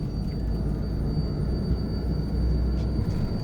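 A private jet on its takeoff roll, heard from inside the cabin as a steady, deep engine rumble and roar with a faint high whine, even and continuous.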